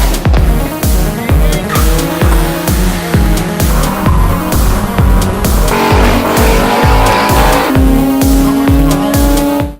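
Test-piped Audi B8.5 S4/S5 exhaust with a Magnaflow resonated X-pipe, loud and close, with a rapid rhythmic pulsing of revs or pops throughout and sharper bursts over a steady, raspy drone.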